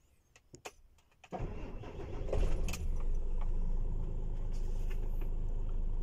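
Keys jangle briefly, then a car engine with a lit check engine light (EGR control valve circuit input low fault) cranks and catches, settling into a steady close idle.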